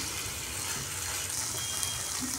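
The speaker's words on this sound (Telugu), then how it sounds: "2 కప్పుల బాస్మతి రైస్కి 4 కప్పులు వాటర్ యాడ్ చేసుకుందామండి" A steady gush of water poured onto basmati rice in a pot, a continuous close rushing stream lasting a couple of seconds with no talk.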